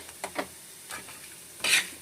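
Fenugreek seeds frying in a pan for sambar, a soft continuous sizzle with a few brief stirring scrapes and a louder hiss burst near the end, close by and without talk.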